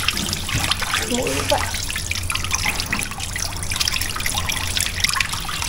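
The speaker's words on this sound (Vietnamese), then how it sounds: "xong rồi thì chúng ta sẽ rửa lại bằng nước sạch nha mọi người" Clean water trickles and splashes steadily as pork ears are rinsed in a kitchen, with someone speaking over the running water.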